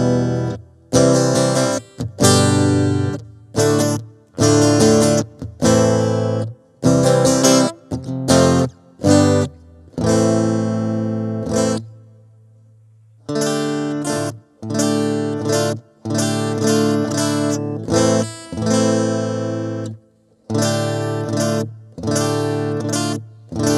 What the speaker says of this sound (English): Just an acoustic tone, nothing special really.